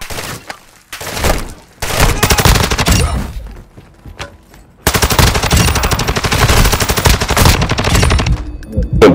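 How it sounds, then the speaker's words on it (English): Gunfire in Call of Duty DMZ: loud, close automatic bursts, a short opening volley, a longer sustained stretch of rapid shots, then after a brief lull a dense continuous barrage to the end. "Blue's getting shot at."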